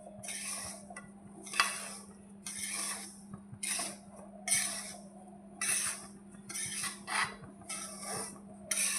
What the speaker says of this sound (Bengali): এখন আরেকটা লাড়া দিয়ে নেব।